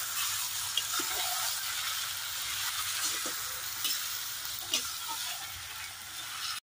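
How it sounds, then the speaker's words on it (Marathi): Tomatoes stirred and fried in a pan for a tomato chutney, a steady close sizzle and hiss that runs throughout, with occasional soft scrapes from the stirring and no talk. "टोमॅटो एकदम शिजून घेतला।"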